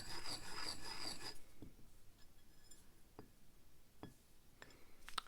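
An ink stick is ground against an inkstone for Chinese brush painting: a loud, close, rasping rub for just over a second, followed by quiet stillness broken by a few soft, scattered taps.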